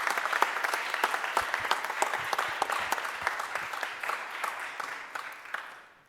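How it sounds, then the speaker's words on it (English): An audience at a city officials' briefing in Philadelphia claps steadily for about six seconds, a dense, moderately loud patter of many hands that slowly tapers toward the end, with no voices over it. "give our city solicitor, who led the legal charge and fight for our city, a huge round of applause"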